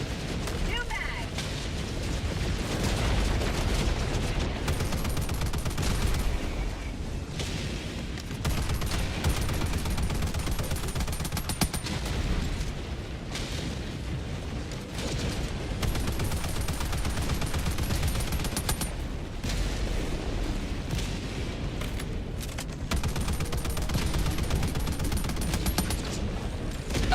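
Sustained gunfire in the video game Helldivers as a magazine is emptied: a dense, continuous stream of shots and explosions that runs loud and steady throughout, with a voice heard over it.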